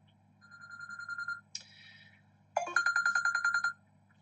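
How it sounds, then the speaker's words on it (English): Mobile phone ringtone sounding indoors, a bright electronic melody in short bursts: a sustained tone, a brief descending figure, then a rapid repeating pulse of about ten notes, clear and alone. "My apologies, that is my phone."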